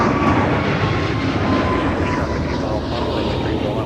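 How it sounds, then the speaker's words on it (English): An airliner taking off from runway 30 left at Minneapolis–Saint Paul airport, with a loud steady engine roar holding throughout from fairly close range. "runway 30 left, clear for takeoff"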